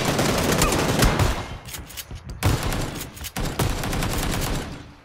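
Rapid gunfire in the video game PUBG during a fight over a bridge, with loud bursts of shots repeating for several seconds and a few short gaps between them, and no talking over the shots.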